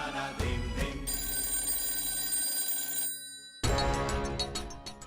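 A telephone bell rings in a domestic setting, bright repeated trilling bursts that stop abruptly for a moment and then resume, fairly clear and without talk.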